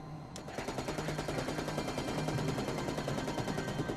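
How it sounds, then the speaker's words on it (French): A rapid burst of 30 mm cannon fire from a military aircraft, a dense, rhythmic train of rounds in close succession that runs loud and continuous for several seconds with no pause. "J'ai tiré une rafale de 64 munitions de calibre 30 mm."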